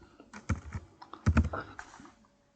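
Short bursts of typing on a computer keyboard as a name is entered, close and clear clicking clusters in two quick runs with brief pauses, no speech over it.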